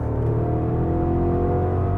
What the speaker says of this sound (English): That is a lovely engine note.